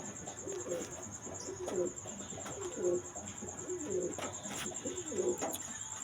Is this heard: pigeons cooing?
yes